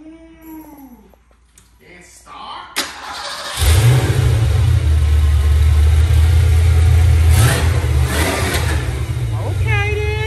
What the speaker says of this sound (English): he got the new X pipe on here. I gotta hear this joint.